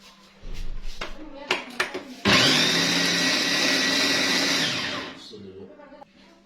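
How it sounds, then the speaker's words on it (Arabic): A blender whirs loudly for about three seconds blending fish marinade ingredients after some clattering and handling noises, then spins down to a stop. "هنضرب كل المكونات ديت في قلب الخلاط او في الكبه"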